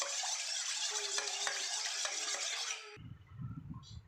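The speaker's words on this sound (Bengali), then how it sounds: "এটা কিন্তু আমার অলিভ অয়েল, ঠিক আছে? এটাকে আমি এবার ভালো করে ফেটিয়ে নেব।" Olive oil being whisked by hand for a fruit cake batter, a busy metallic scraping and clinking in a bowl for about three seconds, then cutting to softer low rumbling handling noise.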